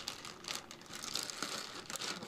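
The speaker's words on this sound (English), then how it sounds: "A plastic bag." Plastic bag crinkling in short, faint bursts while an astrophotography camera is unboxed, a soft rustling close to the microphone with no talk.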